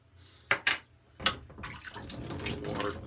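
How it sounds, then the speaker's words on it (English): Tap water runs onto a shaving brush during a straight razor shave prep, a steady close splashing stream that builds after a few brief knocks and handling sounds. "A little water to the brush."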